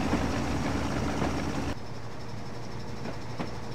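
A Class 03 diesel-mechanical 0-6-0 shunter in Train Simulator 2015 rumbles steadily with a continuous low engine and rail drone, easing slightly partway through, with faint clicks.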